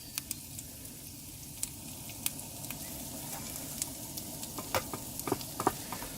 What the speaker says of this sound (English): let's just cook off these onions